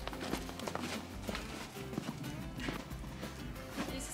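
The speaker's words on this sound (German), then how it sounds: "Dieses Pferd geleitet mich auf Schritt und Tritt." Hooves clop at a slow walking pace, fairly quiet and close, with irregular steps over soft ground.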